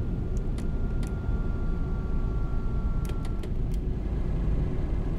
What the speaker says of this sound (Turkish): otobüslerde vesaire duyabileceğiniz bir retarder sesi olduğu için